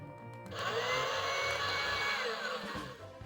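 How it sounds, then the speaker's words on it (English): A small electronic vacuum cleaner sound effect plays from a Puffy AmiYumi toy tour bus, a brief whirring hum that rises, holds steady for about two seconds, then fades out, heard close and alone. "Vacuum sound."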